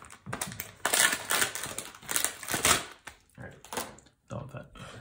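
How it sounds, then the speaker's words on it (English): Plastic packaging around a PCI Express NVMe SSD adapter card crinkles and crackles in irregular bursts, with sharp rustling snaps and short pauses, heard close up. "Excuse the crinkling."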